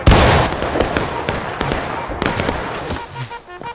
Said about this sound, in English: And it's a volley.